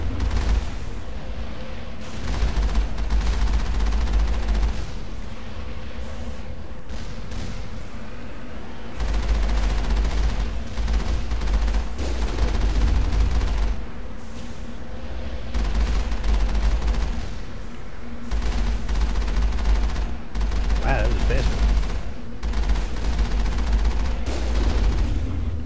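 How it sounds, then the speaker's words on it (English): Incoming enemy rockets and gunfire in the Mass Effect game on a lunar base produce a continuous rumble of booms and bursts, loud and sustained with repeated heavy low thuds throughout. "Here come the rockets."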